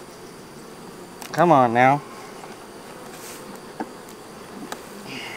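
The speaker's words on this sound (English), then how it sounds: "It helps when there's not a ton of bees up and they're working." Honey bees buzzing around hive honey supers, a dense steady hum throughout with a person speaking briefly over it.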